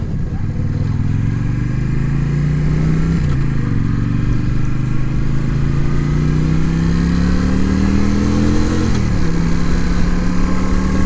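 Suzuki Intruder cruiser motorcycle engine underway on a ride, a steady close rumbling drone whose pitch climbs gradually through the gears, with two brief dips at shifts.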